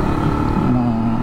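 A Yamaha RXZ motorcycle engine runs on the road with a close, continuous buzzing drone and a slight rise in pitch partway through.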